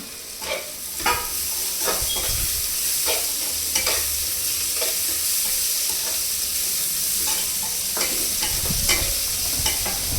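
Steady loud sizzling with repeated spatula strokes as vegetables and capsicum stir-fry for veg hakka noodles, a continuous frying hiss broken by regular close scrapes.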